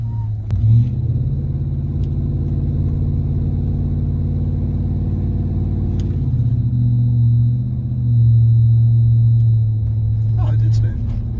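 A car's engine rumbles and revs steadily as both tires spin on grass, the drone swelling louder toward the end before easing off, close by and continuous.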